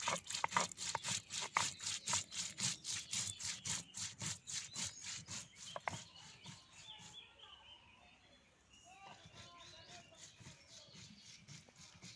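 Green chili and whole coriander are ground together on a grinding stone, a rhythmic scraping stroke repeated steadily for several seconds before fading, with birds chirping faintly in the background.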